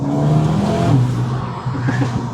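A stock Mercedes-AMG GT 53 with 4MATIC accelerating at night, the engine and exhaust roaring loudly close by, the pitch climbing and dipping through gear changes.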